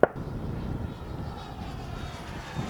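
A Freewing JAS-39 Gripen RC jet with an 80mm electric ducted fan flies overhead, giving a steady, fairly loud whooshing fan roar that holds through the whole stretch with a sharp tap at the start.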